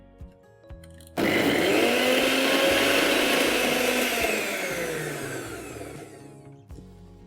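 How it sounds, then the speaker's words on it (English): A kitchen blender grinds blanched spinach into a smooth puree, starting abruptly with a loud whirring roar that holds steady for several seconds, then gradually eases off before the motor stops. "Just add it in the blender"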